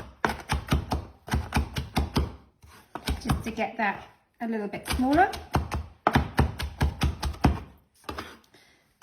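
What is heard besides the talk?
cross chopping fresh herbs with a knife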